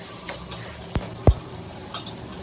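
A spoon stirs vegetable biryani gravy, made without onion or garlic, with fresh mint, coriander leaves and capsicum in a pan. A low sizzle runs under a few distinct scrapes and taps of the spoon.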